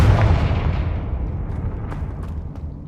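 A loud Confringo fire spell explosion from the video game Hogwarts Legacy bursts at the start as one heavy boom, then rumbles and decays over a couple of seconds with a few faint crackles.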